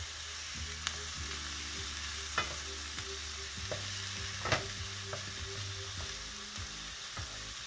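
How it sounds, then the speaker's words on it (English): Food sizzles and fries steadily in a pan while a utensil stirs and folds it, with occasional scraping clicks standing out above the constant hiss. "Keep moving it, folding it, incorporating everything into it"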